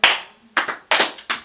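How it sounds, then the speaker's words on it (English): A first-day classroom of students answering a teacher's call-and-response clap signal with sharp, loud hand claps in short bursts, each group clap fading fast before the next lands. No one speaks. "I'll use a clap, clap. And you guys will respond with the same clap."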